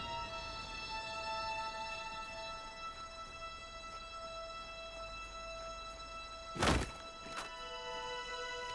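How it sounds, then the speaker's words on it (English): A grenade blast in the video game Halo 1, a single sharp broadband thud that rises briefly above steady game ambience and tonal music, followed by a smaller secondary impact. "that's a grenade"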